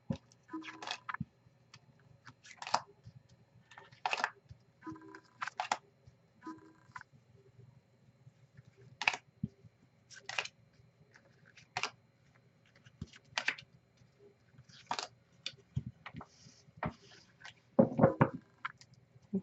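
A deck of tarot cards fanned out and handled, giving a series of short crisp papery flicks and slides in separate bursts, close and fairly quiet, with no talking.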